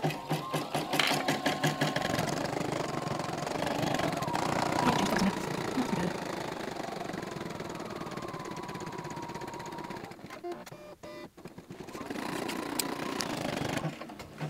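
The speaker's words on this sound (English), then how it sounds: "on a machine like this, once it starts stitching, you can go ahead and stop it and then trim that thread" A Poolin EOC05 embroidery machine stitches a sock monster softie in the hoop, a fast continuous mechanical whir and rapid needle chatter close by, pausing briefly before resuming.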